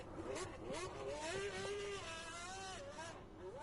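A race car engine in Gran Turismo 7 online lobby racing revs up repeatedly, the pitch climbing and falling through gear changes in a continuous, fairly close engine whine.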